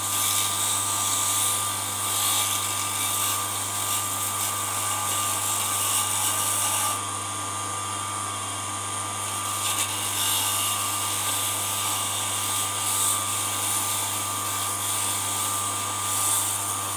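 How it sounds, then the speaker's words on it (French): Light sanding inside a boxwood ring on a spinning lathe-like tool, a steady high whirring grind with a constant low motor hum, continuous and close, with a brief dip midway and no talking. "Et maintenant je vais légèrement le poncer l'intérieur comme ça."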